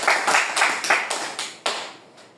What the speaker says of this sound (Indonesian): Mari kita aplaus sekali lagi.